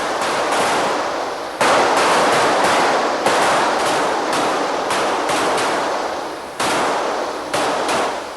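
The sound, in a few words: gunfire from .45 caliber automatic pistols on a firing range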